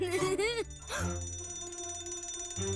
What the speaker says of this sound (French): Oh oh, l'alarme incendie.